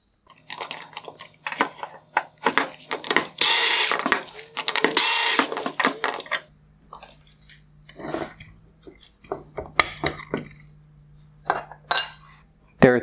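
Small tools and metal parts clicking and clinking as T10 Torx screws are removed from the circuit board of a 2020-2021 Maserati Levante LED headlight, in scattered close taps and rattles with a brief whirring burst, no talking.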